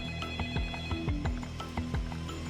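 A home telephone rings on and on unanswered, repeated electronic bell trills in a steady pattern, moderately quiet and heard alone in an otherwise still room.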